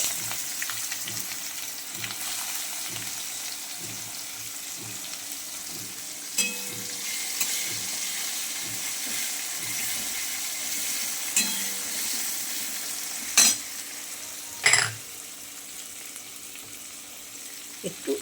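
Onions fry in oil with bay leaf, cumin and a dried chili, a soft, steady sizzle heard close up, broken now and then by the clink of a spatula against the pan.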